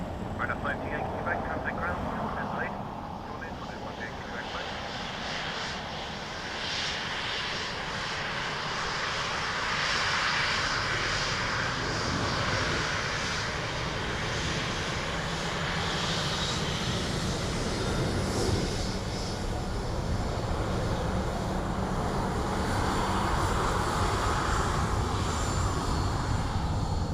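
An Aer Lingus airliner arriving at Dublin Airport, a broad, steady roar of jet engines that swells slightly and holds for the whole stretch, heard from a distance outdoors with faint talk in the background.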